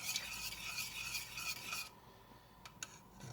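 A spoon stirring whiskey through a lemon butter sauce in a pan, giving a soft scraping, rubbing swish that stops partway, followed by a couple of faint light taps.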